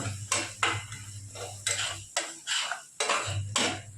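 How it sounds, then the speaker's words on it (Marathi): A spoon scrapes and clinks against a pan as masala is mixed into okra (bhindi), a steady run of about eight metallic strokes, close and clear with no talk. "हा मसाला सगळा असा एकजीव करून घ्यायचा भेंडीमध्ये"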